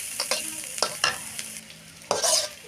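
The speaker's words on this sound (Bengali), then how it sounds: "পেঁয়াজ কুচি" Chopped onions sizzle in hot oil as a spatula repeatedly scrapes and stirs them around the pan, close-up clattering strokes over a steady frying hiss, with no talking.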